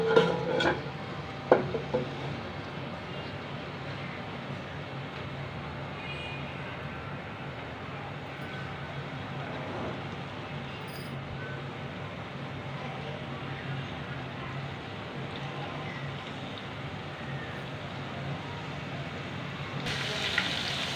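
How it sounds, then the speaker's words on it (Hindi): Ginger garlic paste frying in a pan for a kaleji (liver) dish, a steady, even sizzle that holds throughout with faint clatter near the start. "अदरक लहसुन का पेस्ट फ्राई हो चुका है"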